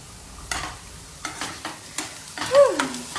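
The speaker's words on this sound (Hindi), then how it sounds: "अभी हम सोयाबीन बनाने जा रहे हैं और बस कांदा फ्राई हो जाए" Onion frying in a pan for a soybean dish, a soft sizzle under repeated spoon scrapes and stirring knocks at a steady pace, with a brief squeaky tone near the end.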